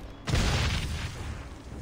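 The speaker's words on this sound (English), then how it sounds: "Those are exploding dodos" Exploding dodos in the video game Goliath blow up in a single deep, muffled boom that hits suddenly and then rumbles off over a second or so.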